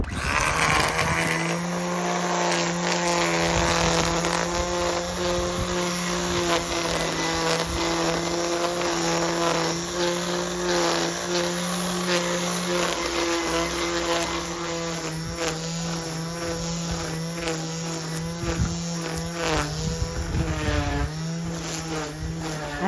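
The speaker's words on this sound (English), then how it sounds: "it's a battery powered fly mow, very easy to use, one of Paul's favourite tools" Battery-powered Flymo hover mower cutting an English cottage garden lawn, a steady high whine with a droning hum that dips and swells as it moves, running alone without talk.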